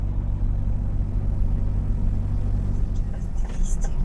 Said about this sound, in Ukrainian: від великої кількості автомобілів, великого трафіку утворюються такі затори